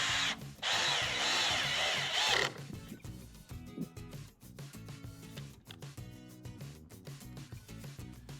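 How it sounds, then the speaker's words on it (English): A power drill drives a screw into a wooden fence post in one loud, steady burst lasting a couple of seconds, followed by quieter clicks and handling noises close by. "attach the conduit hangers to the wooden fence posts using screws"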